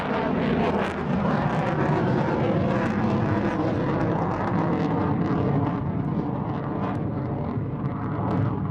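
BAE Hawk T1 jet flying a barrel roll in dirty configuration at an airshow at RAF Waddington, a loud sustained engine roar that holds steady throughout without speech.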